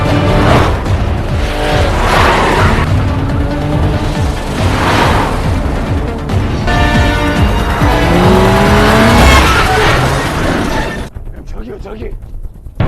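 In a gangster film, a police car chases a fleeing car, with loud engine roar, screeching tires and skids sweeping through, over a dense score and mixed with voices, before dropping suddenly quieter near the end.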